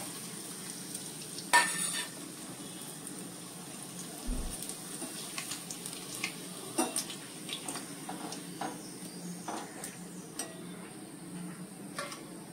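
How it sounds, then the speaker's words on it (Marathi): Potato papads seasoned with cumin and chili fry in hot oil, a steady faint sizzle broken by scattered clinks and scrapes of utensils and pans, with a brief trickle of water. "पापड हे बटाट्याचे आहेत जिरं आणि मिरची लावलेले, तर ते मी जरा तळून घेते"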